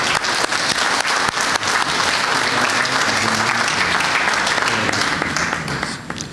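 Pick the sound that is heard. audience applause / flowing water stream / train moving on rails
audience applause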